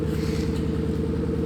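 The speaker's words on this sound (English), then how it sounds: "can probably hear the Soarer idling in the background." A Toyota Soarer with a 1UZ V8 engine idles steadily nearby, a low, even rumble with a faint regular pulse and no change in speed.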